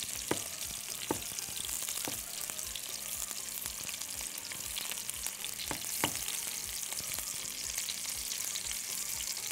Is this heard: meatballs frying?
yes